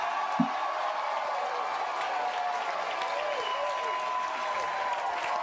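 An audience claps continuously in a room, a steady mass of hands heard at moderate distance, with a single sharp knock early on and murmured voices underneath.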